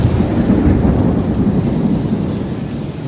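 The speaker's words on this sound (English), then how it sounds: "It's still raining a lot," Heavy rain pours down during a thunderstorm on a Tokyo street, a loud, steady roar of downpour that holds constant throughout with no voices.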